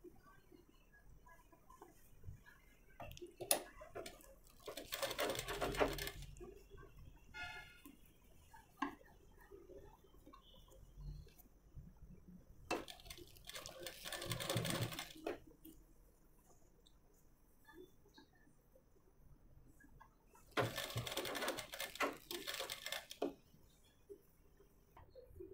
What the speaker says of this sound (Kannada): ಮೇಲ್ಗಡೆನೂ ಸಹ ಕ್ಲೀನಾಗಿ ಸ್ಟಿಚಿಂಗ್ ಮಾಡಿಬಿಡ್ತೀನಿ ನಾನು